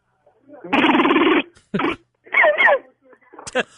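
A man mimics rapid machine-gun fire with his voice: a long sputtering burst followed by several shorter bursts and clicks, with brief pauses between.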